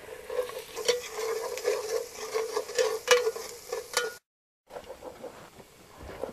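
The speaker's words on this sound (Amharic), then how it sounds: "አሁን ደግሞ ሁለት ራስ ነጭ ሽንኩርት ካላጥ በኋላ አጥቤ ከትፌ እጨምራለሁ።" Chopped garlic from two peeled, washed heads is stirred into a hot frying pan, giving a steady close sizzle with repeated scraping strokes that stop in a short gap and then return more quietly.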